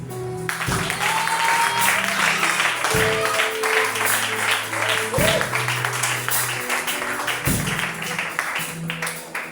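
A church congregation claps and cheers for Jesus, a continuous loud wash of applause with voices mixed in and a few louder bursts, while sustained instrumental tones sound beneath.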